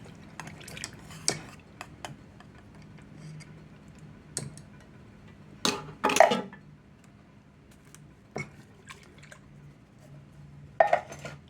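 Peach pie fruit filling is stirred in an antique skillet with a spoon, giving sparse scrapes and a few sharper metallic clinks over a quiet background.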